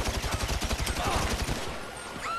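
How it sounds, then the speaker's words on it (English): Gunfire in GTA V, a rapid burst of repeated shots in a steady rhythm for about a second and a half, loud and close, then fading into quieter game ambience. "I just shot him."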